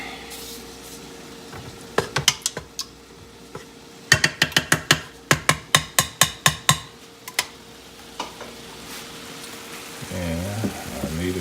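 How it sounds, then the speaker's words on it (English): Diced tomatoes being stirred into chili in a crock pot, a run of sharp scraping and clacking strokes in bursts, with a steady faint sizzle of browning meat underneath and a brief low rumble near the end. "And we'll give it a quick stir"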